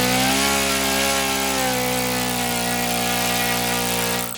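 An OS FS-91 Surpass four-stroke model engine runs rich during needle tuning, a loud, steady buzzing drone held close and unbroken from start to finish, with no voices.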